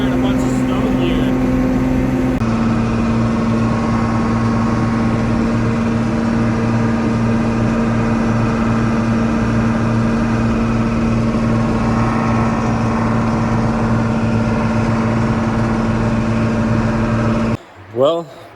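The small engine of a snow plow clearing a farm driveway drones steadily and loudly from close by, a constant mechanical hum that runs nearly unbroken before cutting off briefly near the end.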